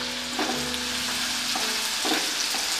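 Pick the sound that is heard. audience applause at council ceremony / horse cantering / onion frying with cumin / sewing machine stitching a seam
onion frying with cumin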